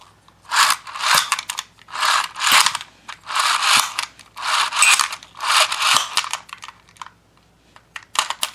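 A plastic Beyblade launcher mechanism clicks and ratchets in rapid bursts up close, about eight loud rattling pulls in a row separated by short pauses.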